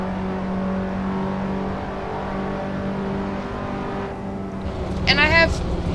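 Race car engine in the Assetto Corsa driving game humming steadily on an out lap, a sustained tonal drone that rises into a brief whining rev near the end, with a voice partly overlapping.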